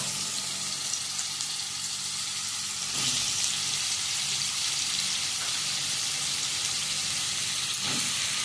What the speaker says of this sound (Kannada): ಇದು ಯಾಕಂದರೆ ಮೊಸರನ್ನು ನಾವು ಫ್ರೈ ಮಾಡುವ.